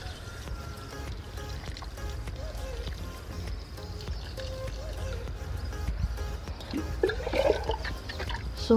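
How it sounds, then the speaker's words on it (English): Water pours steadily from a container onto potted plants during watering, a continuous wet splashing and trickling that holds for several seconds and grows a little busier near the end. "for watering, you have to ensure your plants are getting the water for around 10 seconds, like the water is flowing"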